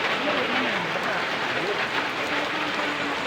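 Heavy rain pouring down at Biak na Bato park, a loud, steady, broadband hiss of downpour with voices faintly under it.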